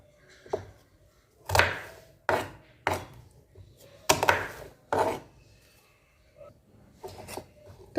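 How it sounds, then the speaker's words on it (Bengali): A knife chops onions on a cutting board in a home kitchen while pasta is being prepared, in about ten loud, irregular, unhurried strikes separated by quiet pauses, with no talk. "তো চলো পেঁয়াজগুলো কুচিয়ে নিই।"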